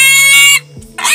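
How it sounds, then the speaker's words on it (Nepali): Pigs in a family pig shed give short, loud grunting oinks close by: one sustained call, a brief pause, then another grunt. "यो हाम्रो बुवाको सुँगुर गोठ हो"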